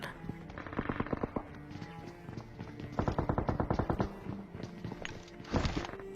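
Automatic gunfire crackles in PUBG Mobile, several rapid bursts of close, loud shots in quick rhythm with short pauses between them.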